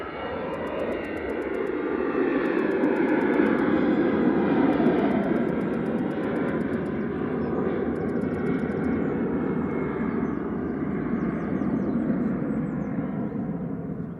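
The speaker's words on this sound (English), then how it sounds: "This is GEZWH, an A320 Classic." An easyJet Airbus A320 Classic jet, registration G-EZWH, at Manchester Airport gives a steady broadband roar. The sound holds for the whole stretch and swells to a peak near the middle before easing slightly, with no voices over it.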